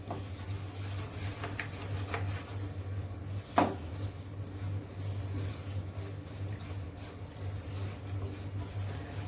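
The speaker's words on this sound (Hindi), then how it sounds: "बस आपने इसको कंटिन्यूसली चलाते रहना है चम्मच को, ताकि हमारी जो शुगर है वो अच्छे से मेल्ट हो जाए और कैरेमलाइज हो जाए।" Spoon stirring sugar as it melts and caramelizes in ghee for sooji halwa, giving a continuous soft sizzle and scraping patter in a pan with a single sharper clink partway through, steady and close.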